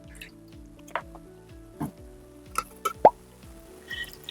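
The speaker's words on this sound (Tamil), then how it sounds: "ஸோ அதிகமா போட்ட மஞ்சள்ல நம்ம டெட் வாட்டரை ஊத்துறோம்" Water is poured onto turmeric powder in a glass during a turmeric test demo, giving a few soft drips and small plops up close, with no one talking.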